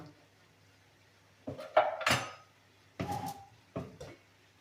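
Spoon stirring potatoes with dried parsley in a pot on a home stove, giving a few scraping, clanking strokes in separate bursts against quiet background.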